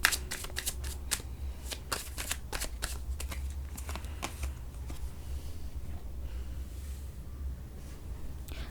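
Tarot cards being shuffled by hand, a quick run of crisp riffling flicks at first, then settling into a faint, quieter rustle, close up with no talking.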